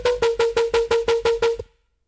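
A synthesized bass patch recreating a remix pulses in nine evenly spaced, punchy stabs on one pitch, loud and close, then stops abruptly into silence.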